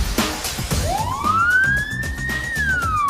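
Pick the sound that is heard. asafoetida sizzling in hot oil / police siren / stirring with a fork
police siren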